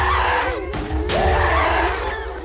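Loud, continuous screaming and shouting over the chaotic sounds of a Minecraft game amid creeper explosions and Wither fights, with voices overlapping throughout.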